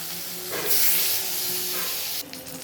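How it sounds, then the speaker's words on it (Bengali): Eggplant pieces frying in hot oil for a Bengali veg sukto, a loud hiss and spray that surges as they go in, then a steady sizzle that drops off near the end. "এবার আমি বেগুনটা ভেজে নেব"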